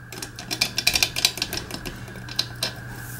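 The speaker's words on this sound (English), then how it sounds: "the bolt work goes through like so and locks." The bolt work of a 1927 Hall Safe Co. time lock slides through and locks with a rapid burst of sharp metallic clicks and rattles. The clicks thin out to a few isolated snaps over a faint steady hum.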